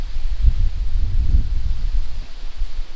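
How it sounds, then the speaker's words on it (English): Wind gusting outdoors on a yard, buffeting the microphone with low rumbling surges and a soft rustle, rising and falling unevenly for the whole stretch. "It's pretty windy today"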